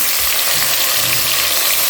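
Pieces of offal dropped into frying onions in a pot give a loud, steady, close sizzle that hisses continuously without a break.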